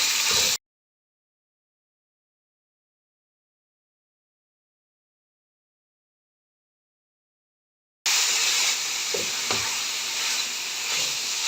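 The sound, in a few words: beef mince frying in a pan with ginger garlic paste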